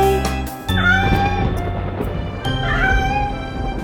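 Cartoonish kitten meows sound over bright music in a Thai children's song, with repeated rising mews across the whole stretch.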